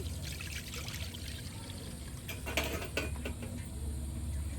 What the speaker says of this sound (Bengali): এই দু লিটার দুধটা দিয়ে দিলাম